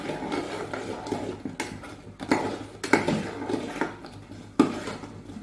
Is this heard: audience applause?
no